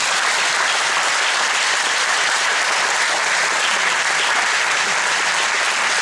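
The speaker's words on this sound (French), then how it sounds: "On peut l'applaudir bien fort." Steady, loud applause from an audience at a 2019 martial-arts belt ceremony, sustained clapping that fills the whole stretch without any clear talk over it.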